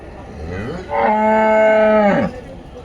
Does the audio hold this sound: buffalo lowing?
yes